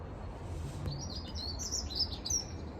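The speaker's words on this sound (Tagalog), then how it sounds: "naririnig nyo ba yung huni ng ibon?" Several small birds chirp and tweet in quick high bursts, fairly faint and a little distant, over a steady low background hum.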